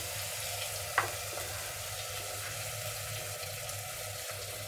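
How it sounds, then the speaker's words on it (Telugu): Carrots, green chillies and other ingredients for egg biryani frying in a pot, giving a steady soft sizzle with a hum underneath and one brief clink near the start, no voices. "కొద్దిగా ఫ్రై అయినాయి."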